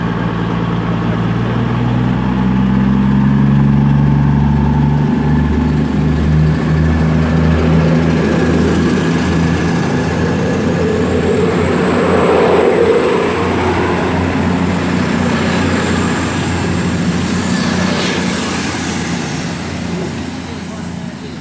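Class 221 unit 221 135 pulls out of Patchway station bound for Plymouth. A loud, close diesel rumble with a high whine builds and holds steady for the full length.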